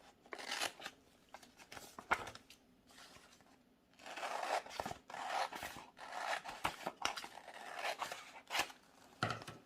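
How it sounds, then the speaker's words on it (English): Scissors snip through paper for a junk journal, with quiet, uneven cutting and rustling in short bursts, pausing now and then before the snips pick up again near the microphone. "So I'm going to just cut this out. Cut this down."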